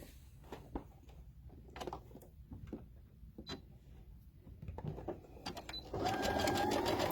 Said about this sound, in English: I'm going to do a zigzag stitch just to show you.